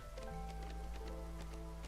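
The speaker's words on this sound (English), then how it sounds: "we're literally just in the drizzle cycle right now" Soft patter of drizzling rain in the video game TCG Card Shop Simulator, a steady hiss of fine drops with faint scattered taps, mixed with sustained tonal game music.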